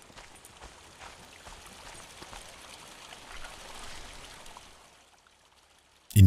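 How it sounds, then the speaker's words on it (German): Water trickling and pouring steadily into a can in the horror game Mundaun, a continuous close stream for about five seconds before it stops, followed by a brief sharp thump. "wir sammeln uns jetzt erstmal ein bisschen Wasser"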